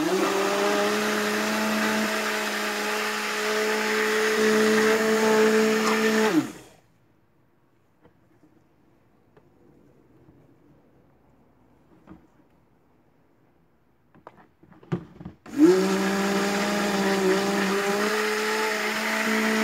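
A blender whirs loudly while mixing pomegranate soap batter, runs steadily, cuts off for a long quiet stretch, then roars back on after a brief clatter.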